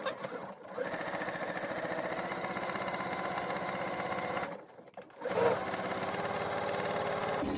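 Sewing machine stitching a cloth doll's body, a fast rapid whirring run that stops briefly twice and restarts, close and fairly quiet.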